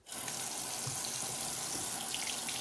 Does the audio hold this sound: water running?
yes